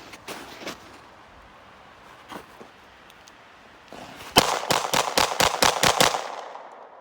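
Rapid pistol fire from a Colt 1911 or Nambu Type 14 on an outdoor range, a few scattered shots followed by a fast, evenly spaced string of about nine loud, close reports.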